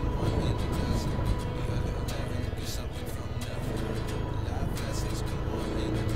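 An automatic scooter motorcycle rides along a rough beach track at Goa Cemara, Sanden, Bantul, giving a steady low engine drone with bumps and scuffs, under outdoor wind noise.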